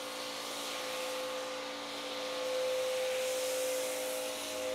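Car wash foam sprayed onto a vehicle at a 10-to-1 dilution, a steady hiss of spraying with a constant tonal hum beneath, fairly close and continuous throughout.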